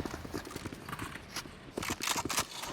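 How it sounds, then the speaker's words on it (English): Footsteps in the Valorant video game come as a quiet, steady run of soft rhythmic thuds, close and unhurried, with no talk. "the rumbling of the footsteps forwards"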